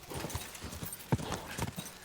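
Horse hooves clip-clop in a steady, close rhythm in the medieval game Kingdom Come Deliverance 2, with no talk over them.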